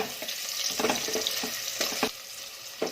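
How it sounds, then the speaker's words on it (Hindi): Thinly sliced medium onion frying in a pan over low-medium gas: a steady, close hiss of sizzling oil broken by intermittent stirring scrapes. "अब इसमें एक ये बारीक लंबा कटा हुआ मीडियम साइज का प्याज डालेंगे और गैस को लो मीडियम पे कर देंगे और प्याज को भी भून लेंगे।"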